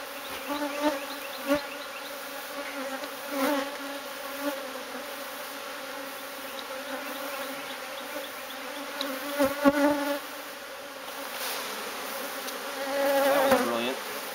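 A swarm of bees buzzes around a hive inside a drum, a dense, close buzzing with individual bees flying past and rising and fading throughout.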